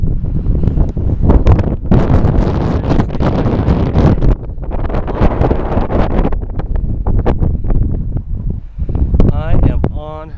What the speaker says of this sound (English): Oh, there's the wind again.